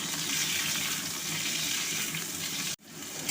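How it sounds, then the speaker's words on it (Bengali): Jujubes cracked open and stirred into mustard oil with panch phoron crackle in a steady broadband sizzle for about three seconds, cutting off sharply near the end before the frying noise swells back. "যে কুলগুলো ফাটিয়ে রেখেছিলাম সব কুলগুলো এর মধ্যে দিয়ে দিলাম দিয়ে ভালো করে নাড়তে থাকলাম"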